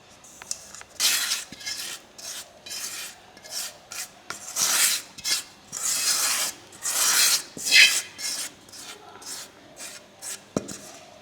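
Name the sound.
squeezing ghee through a cotton cloth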